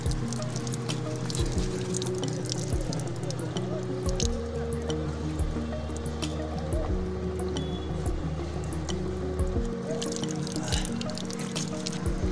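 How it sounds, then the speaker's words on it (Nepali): Cold water runs from an opened tap in Attariya, Nepal, a continuous close splashing and dripping stream that lasts throughout, with a steady tonal hum in the background. "अब चाहिँ म चाहिँ पानी खोल्दैछु हाम्रो यहाँ चिसो पानी अत्तरियाको"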